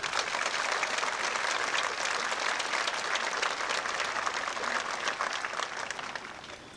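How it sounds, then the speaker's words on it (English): Graduation audience at a 1999 spring commencement of Southeastern Oklahoma State University applauding honors graduates, a steady dense wash of clapping from a large crowd, fairly loud and sustained throughout before easing slightly at the end. "Please applaud these graduates"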